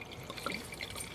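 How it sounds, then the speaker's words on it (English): Wine pours into a glass in a brief, gentle trickle of liquid, with small bright drips and gurgles close by and no talking. "I'm going to pour some for me too."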